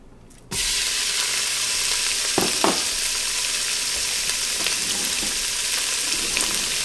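Steak searing in a little olive oil in the bottom of an Instant Pot for Mongolian beef, a sudden loud sizzle bursting in after a brief quiet moment, then a steady hiss with a few clicks and stirring scrapes.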